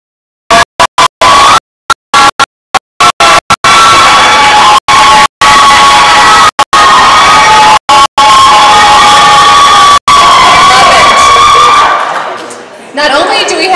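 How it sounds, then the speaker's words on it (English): Colleagues cheer and whoop for a teacher at a school board meeting held at an elementary school, a loud, sustained crowd roar with shouts that breaks out after a few scattered bursts and fades near the end. "we have a cheering committee of colleagues, it looks like"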